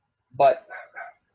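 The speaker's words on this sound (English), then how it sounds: "I'm sorry about my dog barking." A dog gives one sharp bark and then two softer yips close by, all within about a second, with a voice starting over the start of it.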